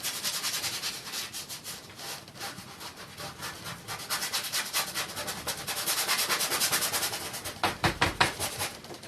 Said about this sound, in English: You can scrub paint on the canvas with a brush